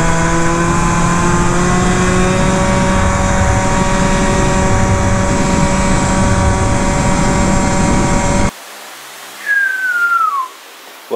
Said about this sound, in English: I'd be curious to see what we revved to just now.